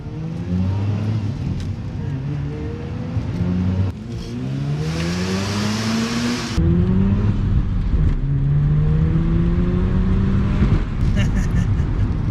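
The 1.3 liter 13B Wankel rotary engine of a Mazda RX-7 FD screams loudly and continuously, pitch climbing and dropping through several gear changes, close and constant throughout.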